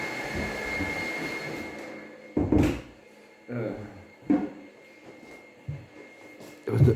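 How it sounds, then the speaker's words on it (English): Indoors, a door swings and shuts, making several dull knocks and thumps spaced over a few seconds against a quiet room. "I'm going to close the door."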